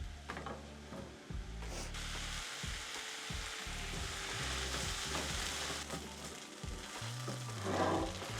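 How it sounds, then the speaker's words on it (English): Ground beef, diced onion and garlic cook together in a dry pan without oil, giving a steady crackling sizzle with occasional stirring scrapes; a musical tone runs faintly underneath. "I'm gonna be dicing up the onion, cooking that, the garlic, and the ground beef until it's all cooked together"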